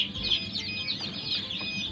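Newly hatched domestic chicks cheep in a constant high-pitched chorus, many small birds peeping close together, with faint low rumbling beneath.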